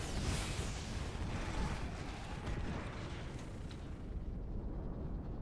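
Gibraltar's airstrike bombardment in Apex Legends, a dense, continuous rumble of overlapping explosions and blasts that stays loud and steady, with no gaps between impacts.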